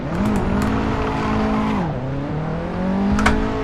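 Race car in the Assetto Corsa simulator, engine loudly revving as it launches from a standing start, climbing in pitch, dropping at a gear change, then building again with a short scuffing sound near the end.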